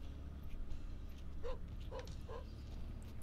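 A pet dog named Norbert lets out three quick yipping barks indoors, fairly faint against a low background hum, with a short whimpering quality.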